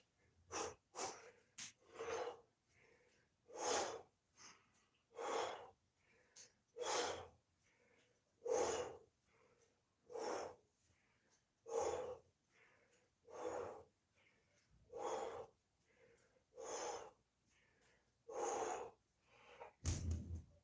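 Heavy breathing after a kettlebell clean and press workout: a long run of loud, regular gasping breaths, each a sharp burst followed by a short pause, close to the listener.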